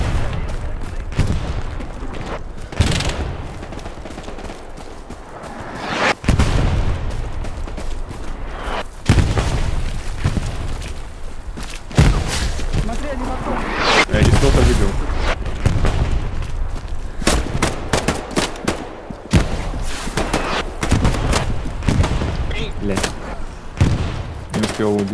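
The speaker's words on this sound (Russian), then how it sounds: "Вот там две пушки работают." Repeated booming cannon shots and bursts of gunfire from a video game battle, irregular and loud, with people talking over the action.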